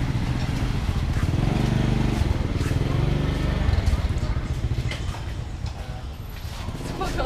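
Motorcycles ride through a narrow residential alley in Vietnam, a steady engine rumble lasting throughout at moderate distance, with voices talking over it.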